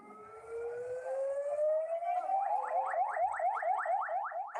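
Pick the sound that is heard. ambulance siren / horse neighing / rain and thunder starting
ambulance siren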